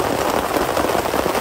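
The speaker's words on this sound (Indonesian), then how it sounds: "Ini kondisinya hujan." Steady rain falls at a mountain camp site, a dense unbroken hiss of drops on surfaces filling the short stretch loudly and evenly.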